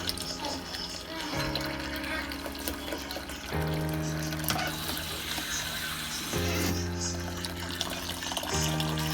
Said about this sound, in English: now I'm just going to pour the other half of the tea in here.